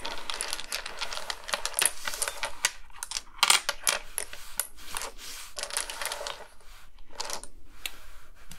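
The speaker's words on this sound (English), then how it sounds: "Shuffle these up a bit." Domino tiles clack and rattle as they are shuffled by hand across a tabletop, a busy, irregular run of close, crisp clicks and scrapes with brief pauses between bursts.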